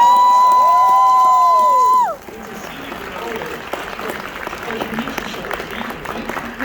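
A steady electronic tone cuts off, then a convention panel crowd claps and cheers continuously with scattered whoops and voices mixed in.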